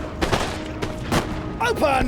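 Musket volley fire from line infantry in the Napoleon: Total War strategy game, a short burst of overlapping gunshots with a rolling crackle, fairly loud, mixed with game ambience and brief voices.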